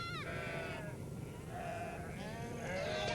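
Sheep bleat a few times at a distance in rural Mongolia, wavering cries over a low steady outdoor rumble, fairly faint.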